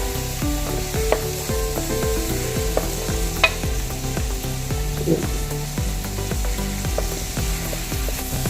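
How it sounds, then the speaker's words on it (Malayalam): Onions and garlic sauté in a pan for a Wayanad-style buffalo leg dish, giving a steady, close sizzle with stirring throughout and a rhythmic, regularly pulsing layer running underneath. "ഒരു സ്പൂൺ വെളുത്തുള്ളി വെളുത്തുള്ളി കുറച്ച് കൂടുതലായാലും കുഴപ്പമില്ല നല്ലതാണ് നന്നായിട്ട് വഴറ്റിയെടുക്കാം"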